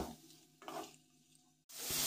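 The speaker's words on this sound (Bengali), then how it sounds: "ভালো করে আমি মশলার সঙ্গে মিশিয়ে নিচ্ছি।" Boiled ol (elephant foot yam) stalks stirred with spices in a pan, soft scraping and light sizzle for a moment before a louder hissing burst at the end, close with no talking.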